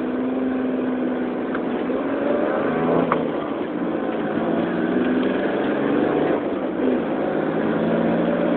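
A tiny car's small engine, restarted by dropping the clutch in gear, drones steadily and evenly as it drives, loud and continuous with no talking.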